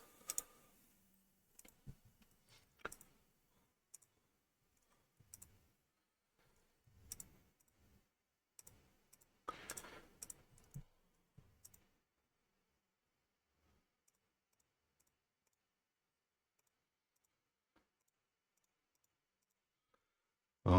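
Computer mouse clicking while batch-selecting surfaces in milling software: a scattered series of faint, sharp clicks in irregular bursts, thinning out to near silence.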